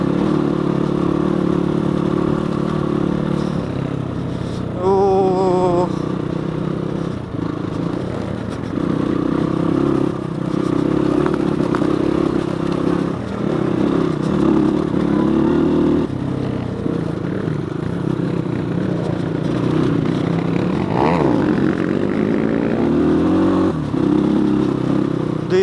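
A CX250 dirt bike engine runs steadily while the rider moves along. It holds a continuous close drone that rises and falls with throttle changes and swells into a rev near the end, with no talking.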